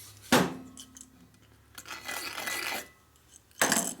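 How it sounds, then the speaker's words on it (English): A carbide burr deburrs a sharp edge on a Shovelhead engine part, giving a few separate bursts of rough scraping, with a sharp rasp at the start, a longer grinding stretch in the middle and another burst at the end. "Take your carbide burr, and you want to get rid of that sharp edge right there"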